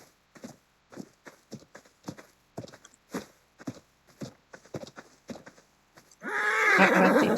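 An in-game horse in Ark trots along with a steady run of hollow hoof clops, then lets out a loud whinny at the end.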